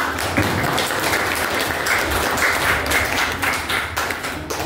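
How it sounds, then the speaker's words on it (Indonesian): Group applause from students in a classroom, a steady dense clatter of many hands clapping together at close range, sustained evenly without speech. "Tepuk tangan."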